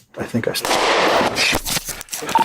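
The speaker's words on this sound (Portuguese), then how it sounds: "10-4, shots fired. It's right in front of us." Gunfire erupts close by as a police officer responds to a shooting, a dense burst of sharp loud reports filling about two seconds amid commotion and voices.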